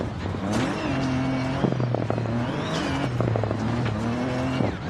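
A rally car engine in the video game Dirt 4 roars and shifts down under braking while tires skid and scrub through a corner, loud and continuous with no speech.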